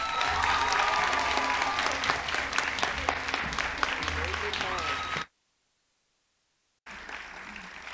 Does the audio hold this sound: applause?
yes